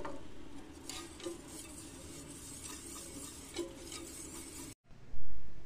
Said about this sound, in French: Je mélange bien avec le fouet à la main